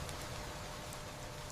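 Steady rain falls in a soft, even patter with no breaks, close and continuous, with nothing else heard.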